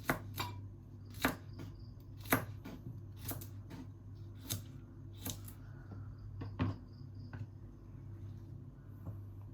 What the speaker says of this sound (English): we just cut some cucumber